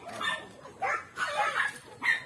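Dogs at a farm where chickens are kept give several yips and short barks with whimpering in between, moderately close and fairly loud, with no other voices.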